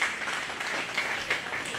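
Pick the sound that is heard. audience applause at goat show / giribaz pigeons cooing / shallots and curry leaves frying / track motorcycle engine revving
audience applause at goat show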